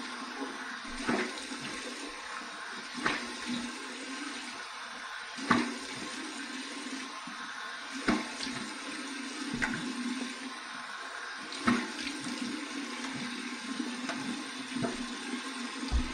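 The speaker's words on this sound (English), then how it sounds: "All right, cold water rinse." Cold water runs steadily from a bathroom sink tap during a wet shave, with repeated splashes roughly every two to three seconds as it is scooped onto the face.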